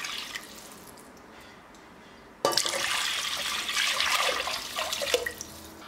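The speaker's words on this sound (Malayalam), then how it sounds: "അപ്പോൾ ഒരു 4 കപ്പിന് കറക്റ്റ് 8 കപ്പ് വെള്ളം ഒഴിച്ചു കൊടുക്കാം." Water poured from a cup into a pressure cooker of rice for mandi, a quiet lull then a sudden loud gushing splash that pours steadily for several seconds.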